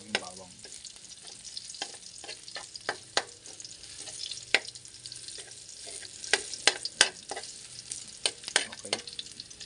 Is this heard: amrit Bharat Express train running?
no